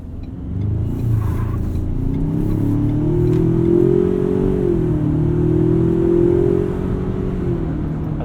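A 2019 Ford Ranger Supercab 4x4 Lariat with a 10-speed automatic accelerates hard, its engine note rising through close-ratio shifts, loud and steady inside the cab, with no talk.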